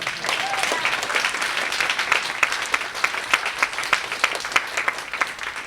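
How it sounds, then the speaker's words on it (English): Conference audience applause at a programming talk, steady and moderately loud, with distinct individual claps standing out rhythmically toward the end. "can you just give them all, like, a round of applause?"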